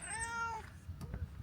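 A cat lets out a single clear, drawn-out meow close by, followed by soft shuffling and faint rustling noises.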